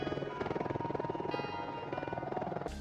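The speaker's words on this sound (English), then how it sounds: "the classic helicopter sound that you hear in all the movies" A steady rhythmic thumping of a Boeing AH-64D Apache Longbow helicopter's rotor blades, a fast regular chop with engine whine underneath, fairly distant and continuous.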